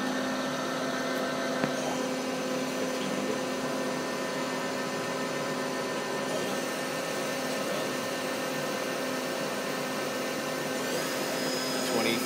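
A Wasino TH-102 dual-spindle CNC lathe runs its spindle, giving a steady, even motor hum with a constant tonal whine that holds level from start to finish, with no other sounds over it.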